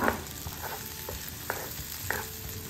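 Sliced white onion sautéing in a pan for a chicken guisantes stew, a soft, low sizzle with a few sharp spatula clicks and scrapes, quiet and without voices.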